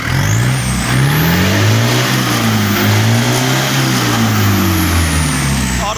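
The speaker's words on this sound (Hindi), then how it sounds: "इसका भी बड़ा खतरनाक इंजन है, और 200 एचपी का इंजन है" A modified Fiat sports tractor with a 200 hp engine revs hard in Punjab, a loud, steady mechanical drone whose pitch rises and falls in waves throughout.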